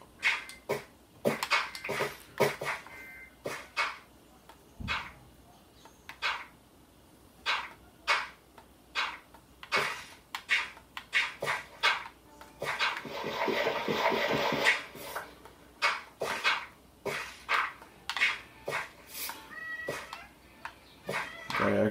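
A cat meows and yowls repeatedly in the background, a string of loud, insistent cries in irregular rhythm, with a brief hiss of rushing water partway through and no speech.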